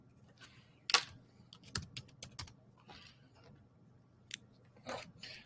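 Computer keyboard keys tapped in short irregular bursts, close and fairly quiet, with a few louder clacks among softer presses.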